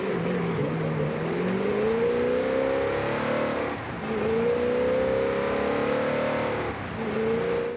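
A Plymouth Belvedere's engine revs in Forza Horizon 5, rising through the gears in long climbing pulls with brief drops between shifts, loud and steady with no talk.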